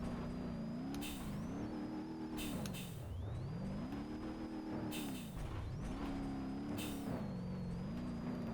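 Rally car engine in BeamNG.Drive held at full throttle while losing oil, with a steady droning note that rises and falls with revs as the car shifts, broken by several short bursts of hiss or gravel noise.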